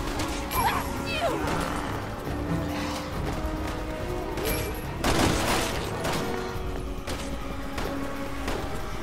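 Gunfire and crashing impacts from a Resident Evil 6 firefight, with bursts of shots, thuds and clatter over a busy game soundscape and voices talking over it.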